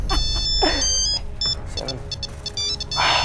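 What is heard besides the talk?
mobile phone ringing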